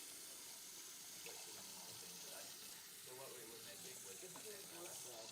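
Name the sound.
hands being washed under a running tap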